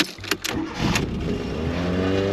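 A car engine with the choke on cranks for a moment, catches, and settles into a steady, close idle that keeps running to the end.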